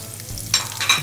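Onion slices drop into hot oil in a big pan and start to sizzle and fry for a veg malai kofta, a close, loud hiss that swells in two bursts.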